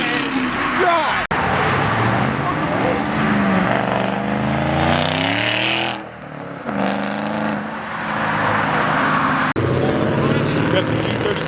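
An Infiniti G37 at a car meet revs loudly with a rough, throbbing exhaust note that rises and falls, with sharp pops cracking out of the tailpipe. People talk and shout over the engine noise.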